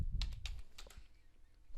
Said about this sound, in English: Let me type it correctly.